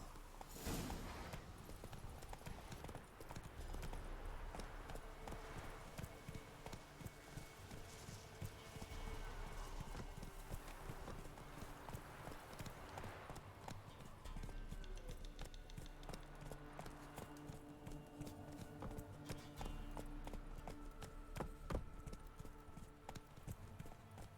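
Horses trotting in The Witcher 3, a steady clip-clop of hooves running continuously at moderate distance over ambient game sounds, with no talking.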